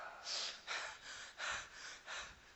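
A voice imitates heavy, rhythmic breathing: five loud, breathy huffs in a steady pattern, close to the microphone, with no talking.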